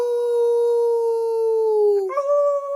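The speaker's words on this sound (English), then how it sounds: "We're trying to teach our dogs to howl" A dog howls in one long, loud, sustained tone that holds steady, then breaks and rises into a second wavering howl near the end.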